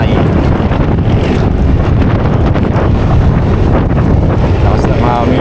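Strong wind buffets the microphone on a boat heading home to Navotas, a loud, steady roar with water and surf beneath and faint voices in the background.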